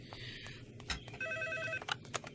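A telephone rings nearby in a busy indoor room with a steady electronic trill, mixed with clatter and background sounds.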